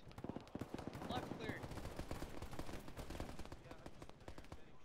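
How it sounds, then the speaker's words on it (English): Automatic gunfire in the military shooter Arma 3 during a town compound assault, a quick rattling stream of shots with faint voices talking underneath, heard at a distance and fairly quiet. "Someone shot at me."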